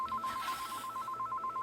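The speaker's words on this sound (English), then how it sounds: "Phone rings all the time." A telephone rings in a busy workshop, its steady electronic trill pulsing in quick repeated bursts throughout, fairly loud and close, with no talking over it.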